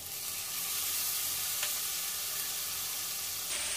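Spice batter poured into a hot frying pan sizzles loudly and continuously, a close, dense hiss with a brief sharper flare near the end, no voices present.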